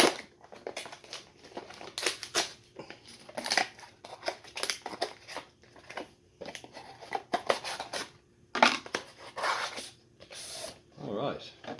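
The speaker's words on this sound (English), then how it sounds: "Clearly they don't want you to open up this packaging nicely, so we'll just rip it open," Packaging for an Akaso V50 Pro action camera being ripped open, with bursts of tearing and crinkling plastic and cardboard in irregular rhythm, interleaved with talking.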